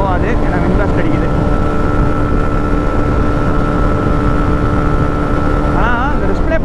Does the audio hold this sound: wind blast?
yes